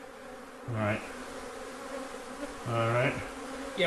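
Honey bees buzz in close, loud passes, two distinct swells of droning wingbeat a couple of seconds apart, while someone speaks briefly.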